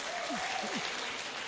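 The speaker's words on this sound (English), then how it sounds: "all of you need to give yourself a round of applause" Audience applause at a pharmacists' continuing education conference in Lagos, Nigeria, a steady wash of many hands clapping that fills the hall, with a faint tonal sweep above it.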